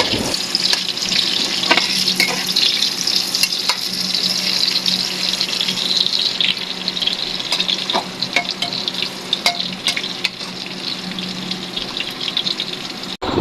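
Bay leaves, cinnamon, cardamom and cloves sizzle in hot oil in a pan while being stirred, a continuous loud crackling hiss with scattered pops and scraping, steady throughout with no voices.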